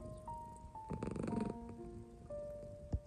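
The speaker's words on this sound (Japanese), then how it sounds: "ラムさんが私のお腹の上に乗っかっております" A cat lying on a person's belly purrs in a soft, steady, close rumble, with a few brief higher tones and a short bump near the end.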